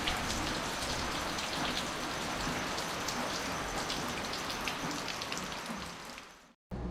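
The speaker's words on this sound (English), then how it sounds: "just a rather intermittent yet persistent rain" Steady rain falls and patters on surfaces in the Philippines, a continuous dense hiss that cuts off abruptly near the end.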